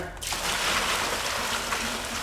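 Hot water poured into a bucket while prepping dye for coyote furs, a sudden continuous splashing rush that starts after a brief pause and holds steady and close.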